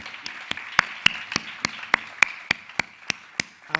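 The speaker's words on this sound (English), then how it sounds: "If you'd like to give them a round of applause" A small conference audience claps for the panelists, sparse and fairly slow, with distinct individual claps sounding close and a soft room murmur between them.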